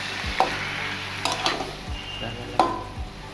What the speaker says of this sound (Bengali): ভালো করে লঙ্কাটা পুড়ে যাচ্ছে, ভালো করে মিশিয়ে দেবো